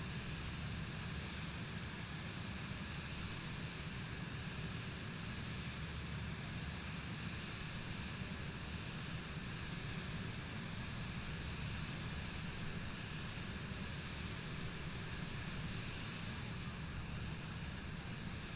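A Cirrus airplane in Microsoft Flight Simulator 2020 gives off a constant, full propeller-engine roar with a steady, unbroken cabin drone and no talking.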